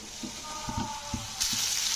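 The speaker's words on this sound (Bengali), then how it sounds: "তো দিয়ে আদা জিরে বাটাটা দিয়ে কিন্তু একটু কষতে হবে।" Ginger-cumin paste sautéing in oil for a Bengali tel koi fish curry, with a few soft stir scrapes and a low, steady sizzle that rises in brightness near the end, close and moderately quiet.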